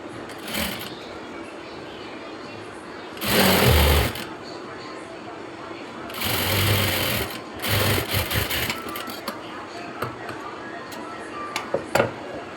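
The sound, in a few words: sewing machine stitching churidar pants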